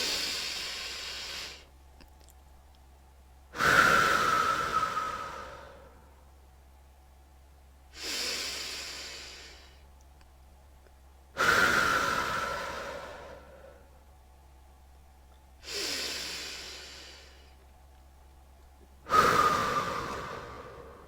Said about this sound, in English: Take a few deep breaths with me, going with how I do so.